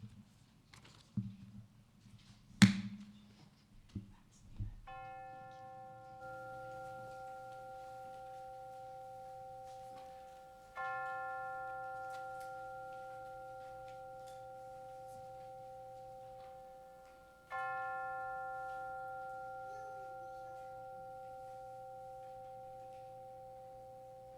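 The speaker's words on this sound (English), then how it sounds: "let us center our hearts and minds with the ringing of the chimes" Chimes ring out at a church service, three separate clear, sustained tones struck several seconds apart, each decaying slowly and overlapping the next, over a low steady hum, after some brief knocks.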